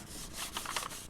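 A hand rubs down freshly glued paper onto a page of a handmade DIY book, making close, dry scuffing and rubbing strokes in quick uneven bursts.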